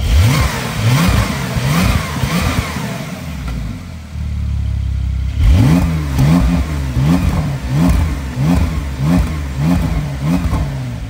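A Porsche 911 Carrera S with the optional sports exhaust revs repeatedly in rhythmic bursts, loud and close, with a brief lower steady drone midway before the sharp blips resume, and no talking.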